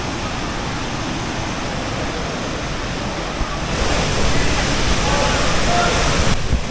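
Aling Aling waterfall in Bali pours as a steady broadband roar, close and continuous, growing slightly louder partway through, with a voice faintly present beneath the rush of water.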